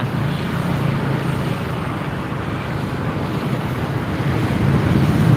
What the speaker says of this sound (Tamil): தண்ணி நிறையா போயிட்டுருக்குங்க ஆற்றுல